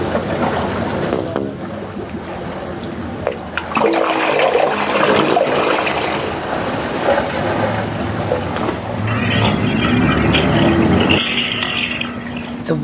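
Waves surge through the pipes of the San Francisco Wave Organ, a bayside sculpture built from found objects: gurgling, sloshing water with hollow, irregular tonal hums rising and falling in uneven swells.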